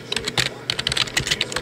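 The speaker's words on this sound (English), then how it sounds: "So I'm gonna type in" Quick, irregular clicks of fingers typing on a computer keyboard, close and crisp, a short burst of keystrokes with no talk.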